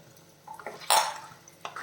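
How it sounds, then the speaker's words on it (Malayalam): Half a cup of water splashes into a pan of crab roast, a short close pour with a bright burst of liquid noise, framed by a few light clinks of utensils against the pan. "ഒരു അരക്കപ്പ് വെള്ളം ഒഴിച്ചു കൊടുക്കാം"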